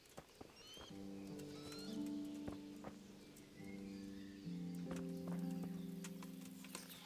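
Horse hooves clip-clop in Kingdom Come: Deliverance, sparse distinct clops over sustained music tones, with a faint whinny-like sound early on.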